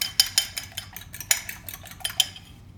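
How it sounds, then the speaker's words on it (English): A whisk beating eggs seasoned with pepper for an omelette, a quick run of sharp metallic clinks against the bowl in an uneven rhythm, close and clear with no talking. "Give it another whisk and a whirl."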